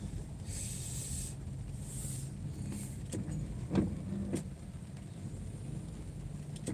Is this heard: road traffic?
yes